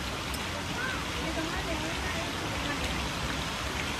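Steady rain falls continuously in a misty mountain setting, a dense, even hiss that holds at the same level from start to end with no other distinct sounds.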